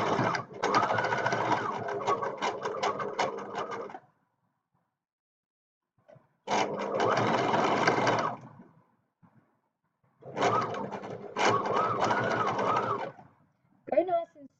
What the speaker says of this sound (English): I did a trial run before I started sewing to make sure my machine was threaded okay